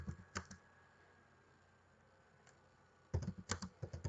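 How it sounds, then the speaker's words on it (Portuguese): Typing on a computer keyboard in a quiet room: a few scattered keystrokes, a pause, then a quick burst of clicking keys close by. "clico na frente do 2 ponto e continuo a minha digitação"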